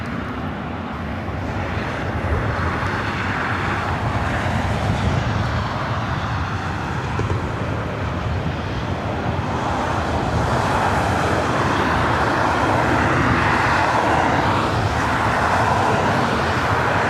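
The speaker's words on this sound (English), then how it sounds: "Qantas Flight 11, A380 Super, not just over downtown Los Angeles." A Qantas Airbus A380 jet airliner flying in over downtown Los Angeles toward LAX, a broad steady engine roar that swells gradually and stays loud throughout.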